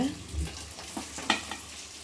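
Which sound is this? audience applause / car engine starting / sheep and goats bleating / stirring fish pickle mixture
stirring fish pickle mixture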